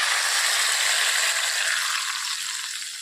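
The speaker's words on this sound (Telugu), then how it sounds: "తాలింపు వేసేస్తున్నాను" Curry leaves hit hot ghee for a tempering, giving a loud, dense crackling sizzle that runs the whole time and eases slightly toward the end, with no voices.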